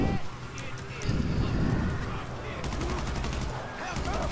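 Rapid gunfire crackles through a GTA 5 Online gunfight, a dense burst of shots amid other game noise, with a voice talking over it.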